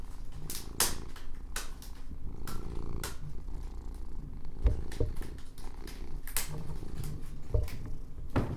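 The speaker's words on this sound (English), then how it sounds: "Give us a big purr." A kitten named Acro purrs steadily up close, a continuous low rumble broken by occasional soft clicks and rustles as it shifts near the microphone.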